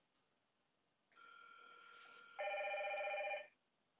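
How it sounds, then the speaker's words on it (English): A Hikvision IP intercom handset rings twice in quick succession, a softer electronic tone followed by a louder, brighter one, against near silence. "And there we go, it's ringing."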